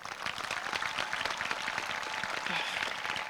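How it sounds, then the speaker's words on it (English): A crowd applauds at a high school graduation ceremony, steady, moderately loud clapping from many hands that continues evenly throughout without talk. "So give a round of applause for everyone that helped along the way."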